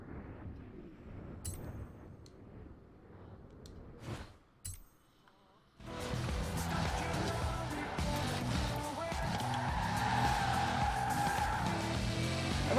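A Bentley in a driving video game: quiet engine and light game sounds at first, then after a brief near-silent gap a loud sustained engine roar with squealing, skidding tires over dirt, with someone talking at points.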